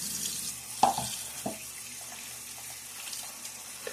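A tap runs while someone rinses after a wet shave, a faint, steady water hiss broken by a couple of small splashes and clinks.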